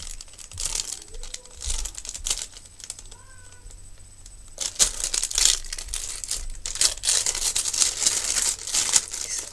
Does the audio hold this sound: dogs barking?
no